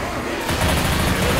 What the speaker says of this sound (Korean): 얘네가 총 쏘고 있으니까 오지 마세요